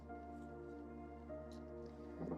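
A fresh lemon is squeezed by hand for a fruit salad dressing, making faint, soft wet squishes and small drips against a quiet background hum.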